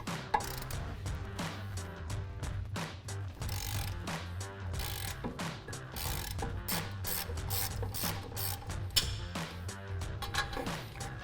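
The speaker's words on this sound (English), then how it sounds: "our 1/2 inch ratchet. Now we'll go ahead and get the top one." A 1/2 inch ratchet clicks steadily and rapidly up close while loosening the upper brake caliper bracket bolt on a 2019-2023 Silverado or Sierra 1500 pickup, with no talk over it.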